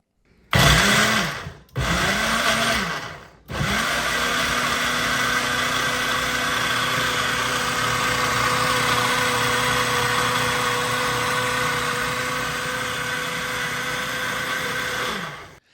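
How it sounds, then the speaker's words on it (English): A Ninja Fit portable blender starts with two short bursts, then runs continuously with a steady, loud motor whir that winds down at the end. "when you put it on the blender, all you have to do is push down on it"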